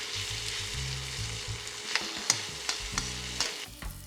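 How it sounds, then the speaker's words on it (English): A utensil scrapes the fond from the bottom of a pan while chicken sizzles loudly, with several sharp scraping strokes clustered toward the end over a constant frying hiss. "I am going to scrape a bit of the fond out of the bottom here."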